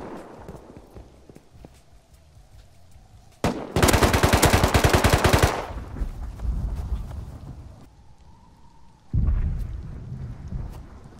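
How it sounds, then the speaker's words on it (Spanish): Automatic gunfire from a multiplayer survival shooter game roars in a loud, rapid burst lasting about two seconds, followed by quieter rumbling and a second heavy blast of noise near the end. "Me disparan."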